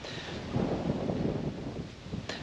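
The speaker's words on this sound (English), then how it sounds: "quite windy." Wind blows steadily across the microphone beside beehives, a low rumbling rush with a few gustier swells, heard alone.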